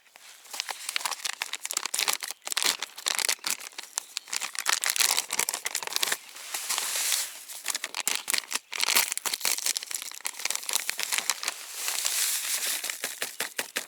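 Continuous close-up crinkling and rustling of plastic fishing bait packets, with tearing and pouring of dry groundbait in busy bursts and no talking.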